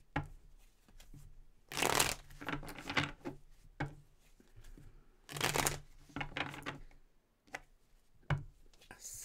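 Tarot cards being shuffled by hand in several separate bursts of crisp riffling and slapping, close and fairly quiet, with short pauses between rounds.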